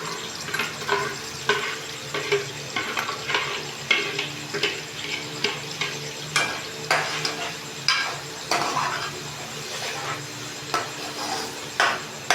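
Ground fried onions stirred in hot oil for beef koftay, with soft sizzling under repeated scraping stirs of a spoon in the pan, steady and close throughout.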